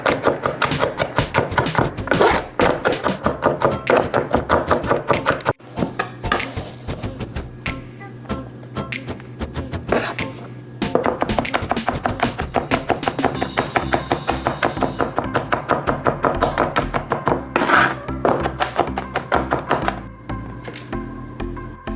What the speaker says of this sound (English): And then you can chop it quickly.